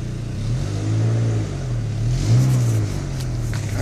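A 2000 Renault Laguna Alize pulls away, its mid-pitched engine heard from inside rising through two short rev climbs as it gets moving, steady and close with no talk.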